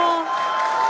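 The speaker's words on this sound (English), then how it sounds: "you can hear the crowd is very excited about it" A crowd cheering and applauding at a SpaceX Starship launch, a continuous excited roar with whistles that stays steady for the short moment.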